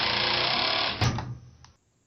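An impact driver sinks a 3.5 inch deck screw with a Phillips #2 bit, a steady loud buzzing hammer that runs for about a second, then a brief final burst before it stops and goes quiet.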